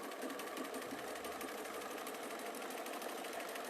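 A sewing machine runs steadily while finishing a seam, its close, continuous whirring buzz holding an even level for the whole stretch without pauses.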